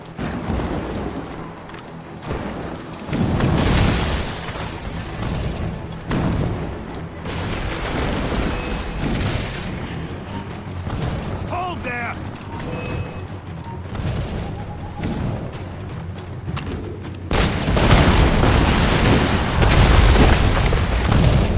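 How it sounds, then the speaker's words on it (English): Mortar shells burst repeatedly in Assassin's Creed Rogue, heavy booms thudding over a dense battle din, growing louder near the end, with brief shouted voices in between. "Mortars!"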